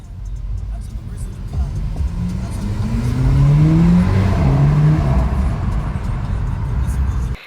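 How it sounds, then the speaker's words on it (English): A Volkswagen Polo GTI with a DSG gearbox accelerates past, its engine note rising and swelling loudly before fading, with the exhaust crackling during the gear change. "my second favourite thing about this car is the DSG farts"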